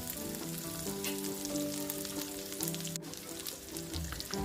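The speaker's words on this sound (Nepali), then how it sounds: "कलर चेन्ज नगरुन्जेल हामीले यसलाई मजाले भुट्नुपर्छ।" Chopped garlic and onion fry in hot oil with a continuous close sizzle and occasional stirring, for pumpkin shoot curry.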